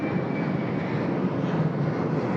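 A fixed-wing airliner arrives on runway 34 left at Sydney Airport, its engine roar steady and loud throughout, a broad continuous rumble with a faint whine above it.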